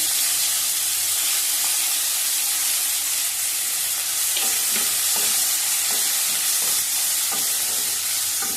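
Chopped onions fry in a pan with a steady, dense sizzle and hiss, punctuated by scraping stirs in the second half; close and continuous with no talking.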